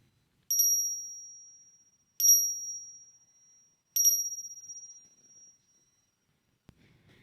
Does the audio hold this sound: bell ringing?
yes